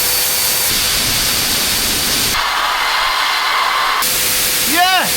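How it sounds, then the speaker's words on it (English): A large blower powered by a DJI Power 2000 portable power station roars with a steady, loud hiss, cuts off partway through, then briefly restarts, with voices speaking at the end. "Now, will the big blower work?"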